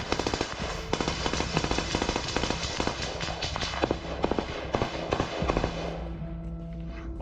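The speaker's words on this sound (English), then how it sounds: "That's a gunfight, baby." Rapid bursts of gunfire from a gunfight ring out in quick irregular volleys, close and loud, with scattered single shots and movement between, ending in a lull with low hum.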